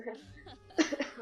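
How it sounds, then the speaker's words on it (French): A woman coughs a few times in quick succession, close and fairly loud, with a rough throaty edge. Low background noise sits under the coughs. "Désolée que je tousse, désolée."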